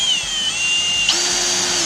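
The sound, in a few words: power drill pre-drilling hole in old 2x4 wood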